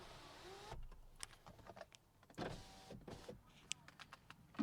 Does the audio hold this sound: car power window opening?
yes